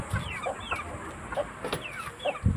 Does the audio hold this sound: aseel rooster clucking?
yes